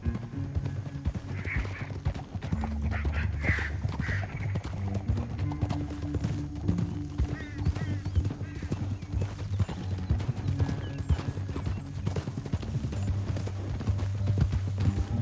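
Horses' hooves drumming in a steady clip-clop rhythm in the Western video game Red Dead Redemption II, continuous and mid-distance, mixed with low tonal game music and an occasional whinny.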